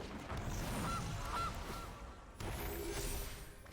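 Two short honks from the Gilded Goose card in the Magic: The Gathering Arena video game, a goose call sounding fairly quiet over a steady background hiss.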